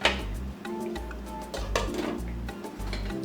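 Metal lid set onto a cooking pot of Ghanaian goat light soup, a few close clinks and clatters of metal on metal over a low kitchen hum, short and fairly quiet.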